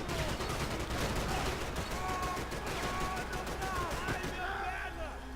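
Dense rapid gunfire in Max Payne 3 at a shooting range, sharp repeated shots crackling continuously over game ambience, with voices talking underneath.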